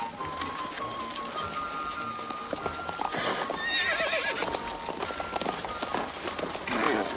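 Horses being ridden clip-clop steadily with nearby hoofbeats, and a horse whinnies at several points, in a 1993 French-dubbed mummy film, with people talking over the sounds.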